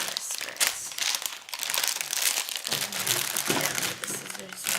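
Plastic packaging of a glitter nail art toy kit crinkles and crackles in close, loud bursts as the box is opened, with a voice talking at times.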